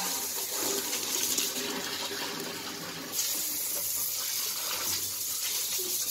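Water runs steadily from a tap while a face is being washed, a continuous close splashing rush that changes in tone briefly around the midpoint, with no talk.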